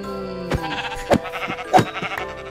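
Sheep bleating in a hardcore Minecraft game, two or three wavering bleats rising over steady background game music, close and fairly loud.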